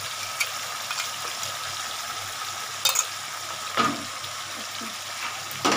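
Chicken kosha with black cumin fries in a kadai, giving a constant close sizzle, while a spatula scrapes and clinks against the pan now and then as it is stirred.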